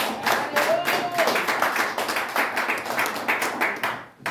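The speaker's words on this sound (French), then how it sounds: "Est-ce qu'on peut acclamer très fort?" A church congregation at a Sunday service in Montreal claps and applauds in loud, steady bursts, the crowd noise dense and continuous throughout, with a faint voice briefly audible.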